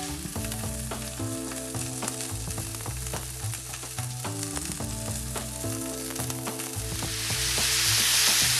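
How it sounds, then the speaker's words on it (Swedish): Floured cod fillet sizzling and frying in butter in a pan, a steady, close crackle of hot fat with busy spattering throughout and no voices. "så nu tar vi den här mjölade torsken och lägger i från en liten smörstekning"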